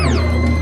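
Noise Engineering stereo oscillator module running its inharmonic algorithm: a steady, loud, metallic drone with clangorous overtones, a high partial sweeping downward in the first moments, sustained without pause.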